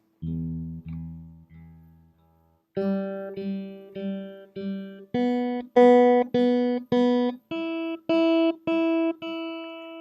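Open guitar strings, fingerpicked with the thumb starting on the sixth string, ring out one at a time in steady groups of four, moving from low notes up to higher ones, clear and close.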